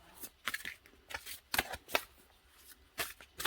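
Oracle cards being shuffled by hand, a run of crisp riffling and sliding bursts in uneven rhythm, close and fairly quiet with no talking.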